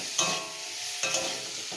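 Potatoes are stir-fried with mustard spice paste in a pan for a fish curry. A soft, steady sizzle runs throughout, and two louder scraping stirs stand out close up.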